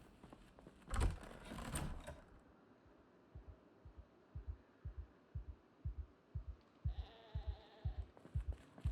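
A sheep in the Project Zomboid survival game gives a brief bleat near the start, followed by a steady rhythm of soft low thumps and a faint hum, fairly quiet throughout.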